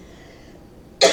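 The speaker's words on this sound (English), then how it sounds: "I'm getting over a cough and cold, so excuse the coughing" One sharp cough from a person with a cough and cold, sudden and loud after a quiet moment.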